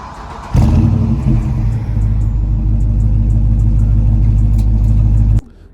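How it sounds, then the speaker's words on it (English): A Dodge Charger R/T engine rumbles loud and close, firing up abruptly and holding a deep, steady idle-rev drone for about five seconds before cutting off. "the engine sound good, and I'm gonna pop up a cool clip real quick of what the engine sound"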